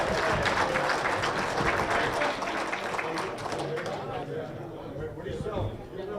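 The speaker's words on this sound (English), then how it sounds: "So give him a big round of applause." Crowd applauding a 13-year-old auctioneer at the Michigan auctioneers and ringmen championship, a burst of clapping that thins and fades over several seconds amid chatter and voices.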